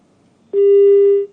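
A telephone line tone on a call to an official who does not answer, a single steady electronic beep lasting under a second, loud and clean after a brief quiet moment.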